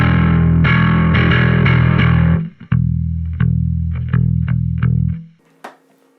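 A bass guitar through a Darkglass B3K distortion pedal plays thick, gritty distorted notes, sustained at first, then a run of short chopped hits before fading out.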